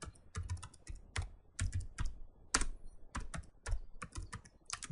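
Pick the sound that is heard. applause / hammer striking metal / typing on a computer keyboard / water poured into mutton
typing on a computer keyboard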